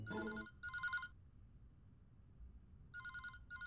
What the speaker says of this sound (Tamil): மச்சா, உனக்கு தான் ஃபோன், நீ கிளம்பு